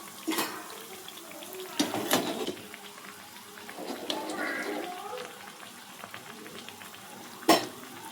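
Milk bun dough balls fry in hot oil with a soft, steady sizzle and bubbling, with a few sharper clatters from a spoon or pan scattered through.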